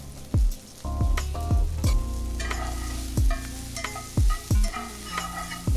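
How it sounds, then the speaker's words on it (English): Garlic cloves frying in oil in a pan, stirred with a utensil: repeated sharp scraping and knocking strokes over a steady crackling sizzle, close and clear, with no voices. "Gonna give that a quick mix."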